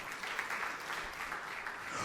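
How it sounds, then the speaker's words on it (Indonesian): Audience applause in a church: a dense, even patter of many hands clapping, moderately distant and soft, holding steady for about two seconds without voices. "Tepuk tangan yang meriah untuk kamu lihat"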